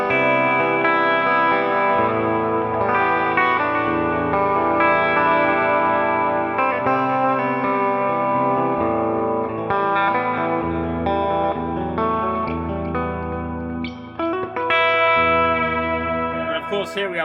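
Gretsch Masterbuilt electric guitar played through its P90 bridge pickup, giving a sustained, driven tone with chorus-like effects and echo, strummed chords ringing continuously at steady loudness with a brief dip near the end.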